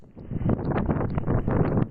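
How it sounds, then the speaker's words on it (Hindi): Strong gusts of wind during Cyclone Nisarga in Mumbai, buffeting a microphone in rough, surging bursts that swell and fade over a couple of seconds. "मुंबई में बारिश शुरू हो चुकी है तेज हवाओं के साथ"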